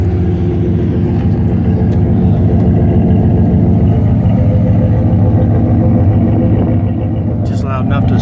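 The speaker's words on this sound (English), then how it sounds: "has really good sound exhaust, not too loud" Low, steady exhaust rumble from a 2002 Dodge Ram 4x4 quad cab pickup running close by, a loud continuous rough drone with a throbbing low end that holds evenly throughout.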